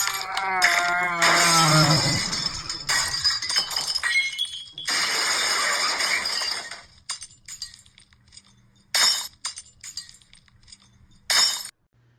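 A breakaway prop shatters against an actor's face during a slasher film stunt: a loud burst of breaking glass-like crashing and clinking, followed by scattered smaller clinks and debris settling.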